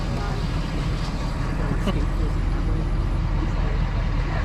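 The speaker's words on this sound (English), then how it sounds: "We're gonna turn this noisy truck off." A loud, steady low rumble of a truck engine idling nearby, continuous throughout, with a faint murmur of voices underneath.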